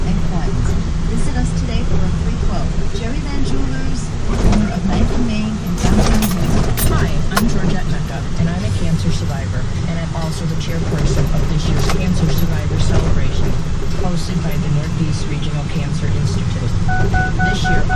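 A Ford pickup truck driving along a road in Hungary: a continuous engine and tyre rumble with road noise and some rattling inside the cab. Someone talks over it at intervals.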